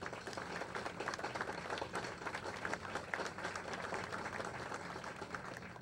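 Warm applause from an audience at a formal commemorative event, a dense steady wash of many hands clapping at moderate level throughout with a faint murmur underneath.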